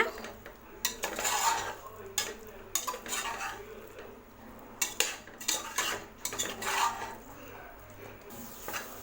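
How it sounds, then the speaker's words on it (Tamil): Marinated cauliflower being sautéed in a pan brings repeated close scrapes and clinks of a metal spoon against the pan in uneven bursts, over a faint background with little sizzle. "காலிஃப்ளவர் போட்டது இதை நல்லா வதக்கி விடுங்க."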